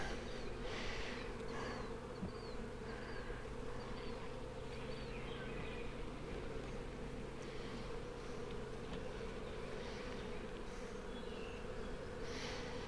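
Honey bees buzzing around an open hive during a beekeeping inspection, a steady layered drone with individual bees flying close past, continuous and moderately quiet, no voices.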